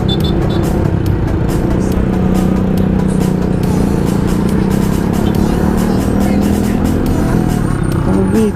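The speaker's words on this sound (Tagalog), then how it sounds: "Nag-traffic jam na mga idol." Steady rumble of cars and motorcycles idling and creeping in a traffic jam on the road from CSJDM to Quezon City, a constant loud engine drone heard from inside a vehicle, with some talking.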